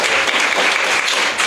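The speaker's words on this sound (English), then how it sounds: "let's have a round of applause for these volunteers" An audience at an academic talk gives a round of applause for volunteers, with a dense, loud, sustained wash of clapping heard close up and no talking.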